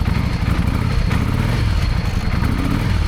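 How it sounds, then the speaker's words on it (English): A motorcycle engine running rough and hesitating as the throttle is twisted, a close, uneven mechanical drone with clattery texture and slight surges, steady and fairly loud with no voices. "But it does hesitate when you twist the throttle."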